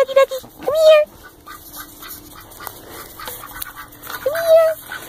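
A pet duck quacks close by in two bursts of short, nasal calls, one near the start and another near the end, with quieter rustling between them.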